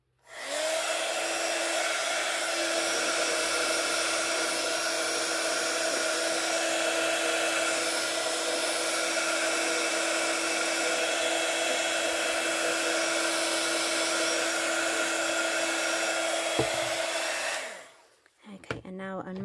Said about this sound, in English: I'm just going to heat set that.